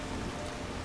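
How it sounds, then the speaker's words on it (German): Loud, steady rainfall in Skyrim, a thick unbroken wash of drops pattering on the ground, with no voices over it. "Der Regen ist immer noch sehr laut, ne?"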